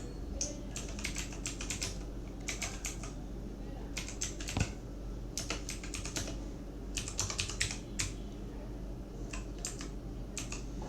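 Brisk typing on a computer keyboard, bursts of rapid close key clicks separated by short pauses, steady over a low background hum.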